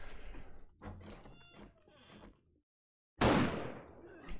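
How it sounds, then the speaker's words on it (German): Muffled 7 Days to Die game noise and voices, a brief silence, then a single loud, sharp gunshot blast that rings out and decays over about a second. "Wo waren die Schüsse her?"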